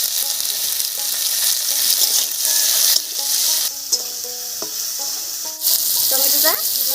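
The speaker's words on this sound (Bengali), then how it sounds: "টমেটোটা ভাজা হয়ে বেশ নরম হয়ে গেছে" Chopped tomatoes with a pinch of salt fry in a pan for a papaya and lentil dish, a loud close sizzle with repeated scraping stirs and clinks of the spatula throughout, without talking.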